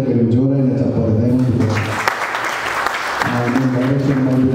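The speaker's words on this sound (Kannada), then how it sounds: "ಇಡೀ ಟೀಮ್ దగ్గర ಜೋರಾಗಿ ಚಪ್ಪಾಳೆ" Theatre audience clapping for the team of a Tulu short film at its first show, a dense burst of applause swelling through the middle and fading, with people talking loudly before and after.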